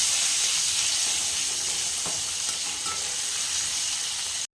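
Drumstick curry sautéing in a pan, giving a continuous, bright frying hiss that stays even and close for several seconds before cutting off abruptly at the end.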